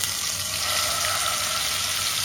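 Marinated chicken frying in ghee in a pan for a chicken ghee roast, giving a steady, loud, close sizzle that carries on without a break and with no voices.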